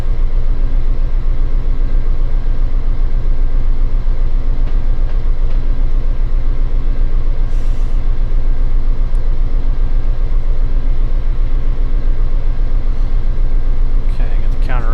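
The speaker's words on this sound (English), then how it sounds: "Q455 CSX 9037 approaching 30 mile an hour speed restriction" A CSX freight train runs in the Run 8 train simulator game, giving a loud, steady, low rumble of rolling wagons and engine that continues without a break.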